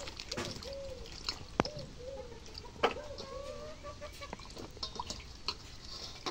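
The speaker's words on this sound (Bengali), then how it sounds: "এখন ভেন্ডি দিয়ে আলুটা ধুয়ে নেই।" Cut okra and potatoes are washed by hand in water, with close sloshing, drips and small splashes, a few sharp knocks against the vessel, and a rooster or bird calling faintly in the background.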